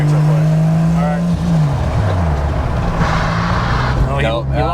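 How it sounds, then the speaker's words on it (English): A 2JZ-swapped Nissan S14 brakes hard and its tires lock up. The loud engine note drops sharply as the car slows, heard up close from inside the car, with a faint squeal and rumble underneath. "I'm gonna slam on the brakes real quick."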